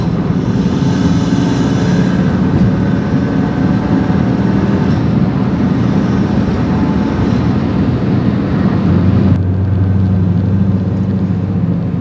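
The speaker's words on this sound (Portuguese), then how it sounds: "Olha como dá pra escutar daqui de dentro, a turbininha" Inside a 2015 Fiat 500 Abarth, the turbo and a slightly loud exhaust drone steadily from the cabin, with a low engine hum that shifts near the end and no talking.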